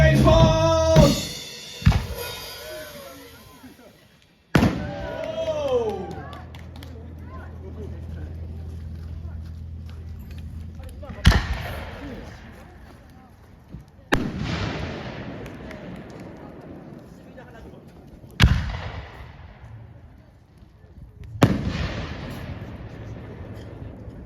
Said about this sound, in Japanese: ここで皆さんお待ちかね、花火いきますよ。